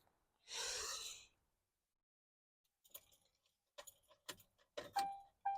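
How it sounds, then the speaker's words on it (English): A keychain caught in the door handle of a 2005 Mercury Grand Marquis GS jangles in several sharp, close metallic clinks, following a breathy exhale in an otherwise quiet moment. "it's one of my keychains that got stuck in the door handle"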